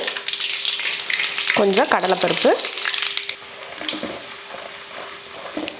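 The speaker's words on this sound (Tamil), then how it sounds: "தாளிக்கிறதுக்கு ஒரு கடாய் வச்சுட்டு எண்ணெய் ஊற்றிடலாம். எண்ணெய் காஞ்சதுமே கொஞ்சம் கடுகுளுந்து" Mustard seeds and urad dal sizzling in hot oil in a kadai while tempering, a loud continuous crackling fry with a stirring clatter, while a person speaks briefly over it.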